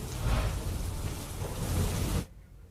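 Heavy monsoon rain pours in a dense, steady hiss for about two seconds, then cuts off abruptly, in Panchmahal, Gujarat.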